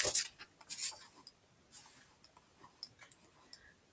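A pen scratches on paper during an eighth-grade maths lesson as an exercise number is written, heard as faint, intermittent short strokes in a quiet room.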